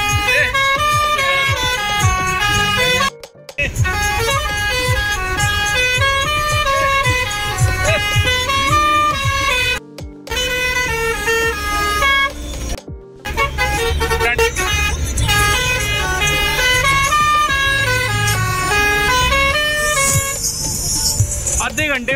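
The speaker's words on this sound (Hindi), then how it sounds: "हॉर्न दोबारा मारियो।" A loud, musical bus horn on a heavy passenger bus between Manjakote and Rajouri plays a long, melodic honking tune with repeating tones, broken by a few brief pauses, over an engine rumble.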